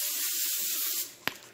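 A can of Great Value cooking spray gives one short, close spritz, a crisp hiss after a stretch of quieter background hiss, with no talking.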